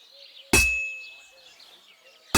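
In the Kingdom Come Deliverance 2 video game, a hammer strikes an anvil at a forge with a loud metallic clang that rings out and decays. A second strike lands at the end over a faint background tone.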